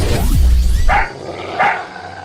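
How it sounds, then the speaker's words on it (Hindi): A dog cries at night, letting out two short, high whining yelps after a brief low rumble, loud and close with no speech. "अगर रात्रि के समय कुत्ता लगातार रो रहा हो"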